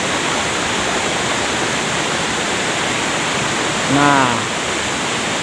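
Steady broadband roar of the Ceracai waterfall in South Aceh, a cold cascade roughly six meters high, rushing continuously up close while someone briefly speaks over it.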